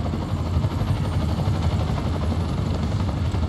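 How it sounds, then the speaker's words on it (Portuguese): A helicopter in the Marvel's Spider-Man: Miles Morales video game gives a steady, loud, droning rotor and engine roar that fills the whole stretch with no talking over it. "O helicóptero tá ok. Não vai cair em Nova York."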